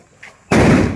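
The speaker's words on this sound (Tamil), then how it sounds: "பச்சை கலர் வெடி அணுகுண்டு பேரு" Green 'atom bomb' firecracker set off at a family Diwali celebration, a single sharp, very loud nearby explosion with a brief rumbling tail, preceded by a faint short sound.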